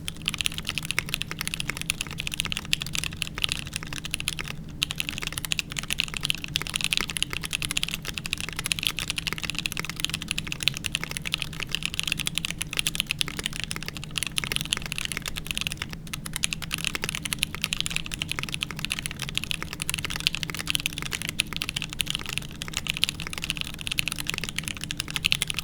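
Continuous rapid typing on a mechanical keyboard with Durock Light Tactile switches, dense clacking keystrokes with a tactile bump, close and steady with no voices.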